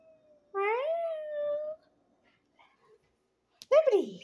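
A tortoiseshell cat gives a drawn-out, sweet meow up close, followed after a short silence by a second, brief rising meow.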